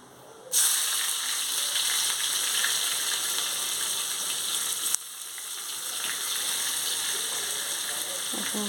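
Garlic and chopped ginger hit hot oil in a pan and fry with a steady, bright hiss and sizzle, which swells again midway as more goes in, with no talk over it.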